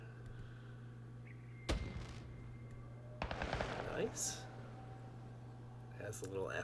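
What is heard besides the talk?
fireworks launching in the video game Satisfactory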